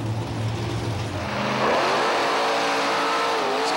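Big Dummy, a monster truck, revs hard on a race run at a monster truck event in Monroe, the engine note steady and then surging louder into a rising roar, with no talk.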